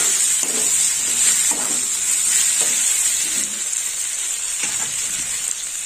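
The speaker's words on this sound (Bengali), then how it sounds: "এবার দিয়ে দিলাম ভেজে রাখা লাউ।" Pre-fried bottle gourd pieces hit a pan for a black gram dal, raising a loud, steady sizzle with a few soft stirring knocks underneath.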